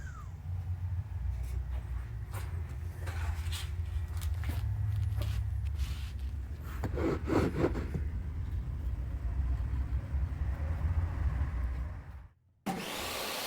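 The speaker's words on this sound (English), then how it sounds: "I'm cutting an 18-inch circle out of this cardboard" An 18-inch circle is cut from cardboard in a woodworking shop, a continuous close rasping, sawing drone lasting most of the stretch before cutting off abruptly near the end.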